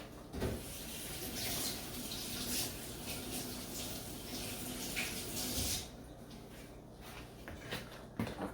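Tap water runs steadily into a sink for about six seconds while something is washed under it during pizza-making, then the flow cuts off and a few faint knocks and handling noises follow.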